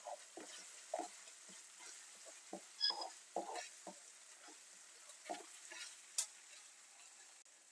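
Onions stirred with tomato paste in a pan for a sauce, giving soft intermittent scraping and gentle sizzling taps, quiet and close, with no voices.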